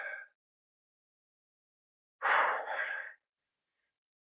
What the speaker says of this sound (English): Did a couple more deep breaths.